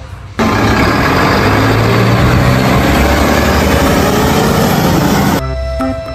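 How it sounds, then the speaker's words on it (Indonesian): A toy garbage truck's engine rumbles in a steady, loud drone that starts abruptly, holds for about five seconds and cuts off, with no talking over it. "Ada mobil truk sampah."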